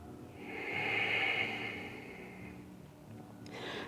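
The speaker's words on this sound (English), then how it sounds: "Take one more nice deep breath in." A long, deep inhale through the nose during a strong standing yoga practice, rising and fading over a few seconds, close and clear with a softer breath starting at the end.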